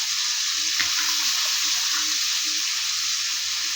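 Potatoes and meat sizzle in hot oil for a Bengali meat bhuna, a steady close hiss of frying with a few soft stirring knocks and scrapes and no one talking.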